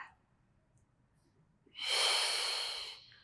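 A strong, close exhale during a Pilates mat workout comes as a single breathy rush of air lasting more than a second after a quiet pause, with no speech over it.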